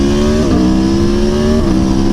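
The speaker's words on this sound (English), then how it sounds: "that V4 engine is absolutely awesome." A V4 motorcycle engine revs loud and close with a steady throaty drone, its pitch easing down and climbing back in two gear-like shifts, and no talking.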